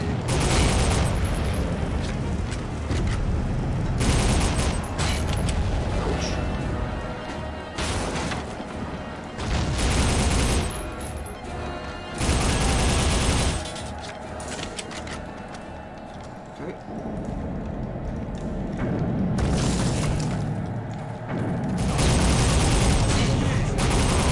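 An SMG firing 5.56 ammunition in the video game Soldier of Fortune Platinum Edition: loud, dense bursts of automatic gunfire with booming impacts come in repeated volleys, with short lulls of game noise between them.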